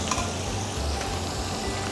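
Chicken Maryland pieces fry in hot oil in a home kitchen, giving a continuous close sizzle with faint stirring underneath and no one talking.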